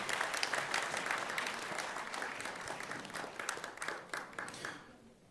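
Audience applause at a Busan Presbyterian University graduation service and degree ceremony, a dense steady patter of many hands clapping from a hall crowd that thins and fades out over the last second.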